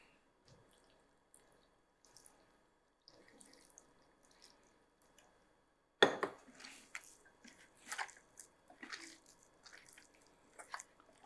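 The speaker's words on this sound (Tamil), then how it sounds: "கொஞ்சம் கொஞ்சமாக தண்ணி ஊற்றி மிக்ஸ் பண்ணணும்." Quiet trickling and faint drips as water is poured, then from midway a burst of wet, squishy dough mixing and splashing with irregular soft slaps, fairly close, while making banana bonda batter.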